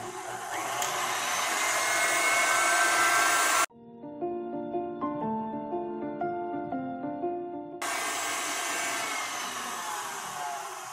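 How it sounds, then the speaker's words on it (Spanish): Electric hand mixer with beaters whipping well-chilled cream in a cold bowl, a steady loud whirring drone that stops midway while brief music plays, then resumes. "Ahora vamos a comenzar a batir nuestra crema para decorar nuestro mostachón."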